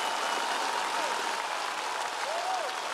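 Audience applause at a comedy show, a steady wash of clapping heard from a distance, faint and unbroken for the whole stretch.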